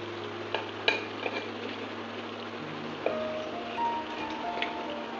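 Prawn pakoras fry in oil over a medium flame, a soft continuous sizzle with occasional light clicks and taps from a utensil against the pan.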